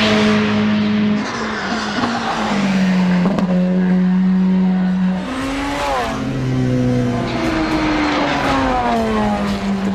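A Porsche 919 Hybrid Evo race car laps Spa-Francorchamps, its loud high-pitched engine note rising and falling through gear changes and braking, with wind and tire noise, close and continuous.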